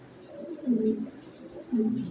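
Fancy pigeons in a loft, including a male, coo in soft, throaty rolling bursts, two fuller swells rising against a low murmuring background, fairly close.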